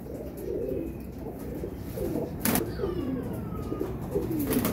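Soft, low cooing from a Rampuri pigeon repeats steadily over a faint outdoor background, with a few higher chirps from other birds.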